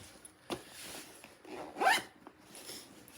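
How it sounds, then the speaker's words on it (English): A zipper on the top pocket of a VIKTOS Upscale 2 sling bag is pulled in a few short, raspy bursts, close and fairly quiet, with the longest zip near the end. "Now this top pocket right here has a zipper as well."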